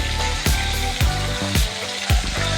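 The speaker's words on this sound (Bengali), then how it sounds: "মাছগুলোকে আমরা হালকা লালচে করে ভেজে নেবো" Rohu fish pieces sizzle steadily in hot oil while browning, with sharp scraping knocks from a utensil roughly every half second, close and fairly loud.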